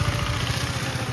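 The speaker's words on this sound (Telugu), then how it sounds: "నా బండిది స్కూటీ" A scooter engine runs with a steady, mid-pitched droning putter, loud and close, a slightly rough pulsing rhythm and no voices.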